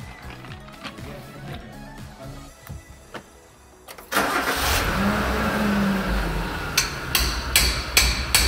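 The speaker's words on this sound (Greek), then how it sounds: "Βάλτε μπροστά τα αμάξι." A Suzuki Jimny engine cranks and catches in a home garage during a brake disc and pad change, then settles into a steady loud idle with a few sharp metallic clanks on top; nobody speaks.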